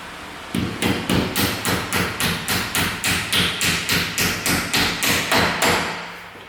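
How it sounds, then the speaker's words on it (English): A hammer taps repeatedly on the wheel carrier of a sliding window, about a dozen evenly spaced, fairly crisp knocks in a steady rhythm that stop abruptly near the end. "we're going to take a hammer, line this one here up nice and square, and just gently tap on it from the top"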